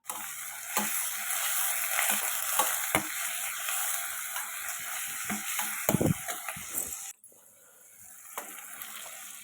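Tomatoes and curry leaves sautéing in a pan, a steady close sizzle with scraping stirs and clinks that stops abruptly near the end, followed by a few quieter stirs.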